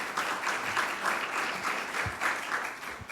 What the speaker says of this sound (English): So one more round of applause for that initiative and that work.